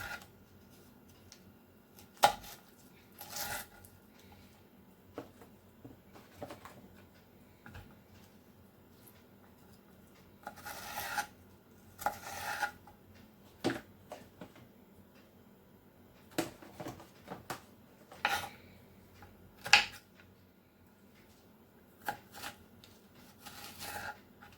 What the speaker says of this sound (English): Now I'm going to chop this very one in different size.